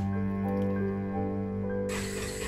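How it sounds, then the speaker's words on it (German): Hands dip into a bowl of water while bread dumplings are rolled, giving soft splashes and drips over a steady background hum, close and faint, with no speech. "Die Hände dann immer schön ins Wasser tunken, damit sie nicht so kleben und die Knödel einfach rollen."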